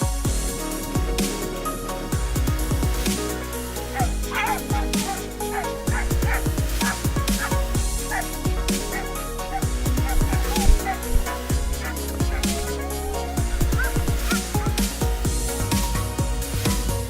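Sled dogs bark and yip together in a dense, loud chorus, overlapping excited calls and whines continuing without pause, with no human speech.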